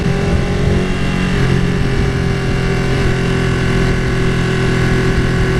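A Ducati 959 Panigale sport motorcycle under way with the throttle held open, its engine droning loud and steady at high revs, accompanied by wind rush and no voices.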